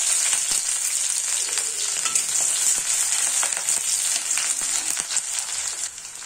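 Onions frying in a few spoonfuls of mustard oil with cumin seeds give a steady, close hiss of sizzling, broken by occasional stirring scrapes and pops.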